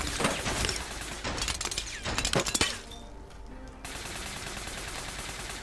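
Shotgun fire in the online shooter APB Reloaded, a few loud sharp blasts in quick succession followed by clinking, ringing debris against steady background game noise.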